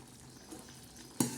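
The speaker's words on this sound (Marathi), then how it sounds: "हे बघा कसं शाबदाणा मस्त असं छान उकळत आहे" Sago pearls simmering in a pot for sweet kheer, a quiet, soft bubbling and faint stirring, ending in one sharp metallic clink near the close.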